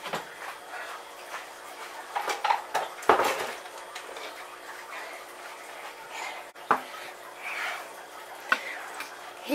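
Glass canning jar of homemade sauerkraut being closed with its lid, giving light metallic clinks and scrapes, a sharper tap near the middle and a few small knocks afterward, all close and fairly quiet with no talking.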